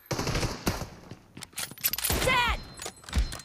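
Automatic gunfire in the video game PUBG during a team deathmatch: sharp, rapid bursts of shots in quick clusters, fairly close and loud, with someone talking excitedly in between.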